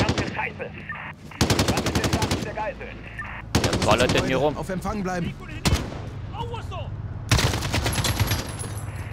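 Bursts of automatic gunfire and shots from the video game Call of Duty Modern Warfare, set in London's Piccadilly with a hostage situation, come in loud repeated volleys separated by short pauses, with voices shouting in between.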